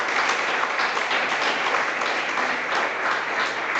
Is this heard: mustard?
no